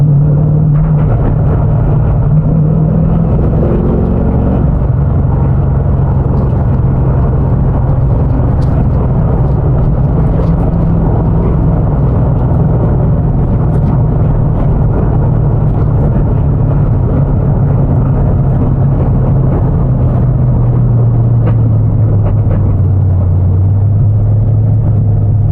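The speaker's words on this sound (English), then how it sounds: "I think it like goes very lean and then rich and then lean when you stab the throttle" Toyota GT86 with an LS3 V8 swap rumbles loud and close, its deep engine note shifting in pitch across throttle stabs, then settling lower near the end.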